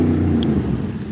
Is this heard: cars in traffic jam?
yes